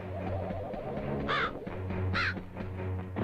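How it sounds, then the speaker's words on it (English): Crows cawing in the PS1 game MediEvil, two distinct harsh caws about a second apart over a low droning in-game musical background. "Oh, crows."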